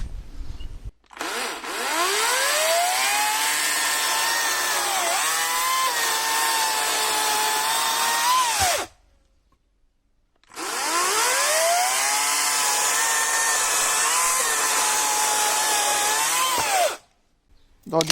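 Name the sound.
Parkside PKSA 40-Li cordless chainsaw cutting at full speed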